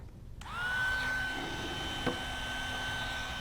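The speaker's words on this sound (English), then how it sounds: "I had my hair dryer in to dry the paint." A hair dryer blows steady air onto paint on a sgraffito woodturning piece, switching on with a rising whine that then holds as a close, constant whir, with a small click midway.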